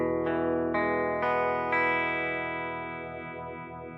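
An electric guitar plays through an AKAI Intelliphase phaser pedal set to touch-sensitive mode. A few hard-picked notes ring out and sustain, and a slow sweeping phase effect creeps in as the tone fades, close and alone.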